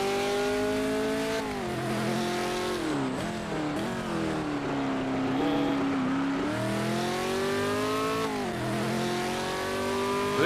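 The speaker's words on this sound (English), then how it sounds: "So we're in the Ford GT40 here, 1967." A 1967 Ford GT40 in the racing game Project Motor Racing howls loud and close, its engine climbing and falling through gear changes and braking, with brief tire squeal as the car is driven hard.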